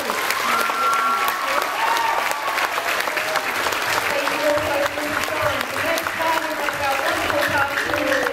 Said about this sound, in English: And another round of applause for our moderator.